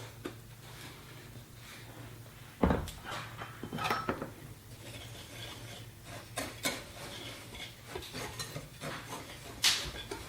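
Coca-Cola cake batter being mixed in a bowl, with quiet scattered clinks and scrapes of utensil against bowl and a louder knock or two over a low steady hum.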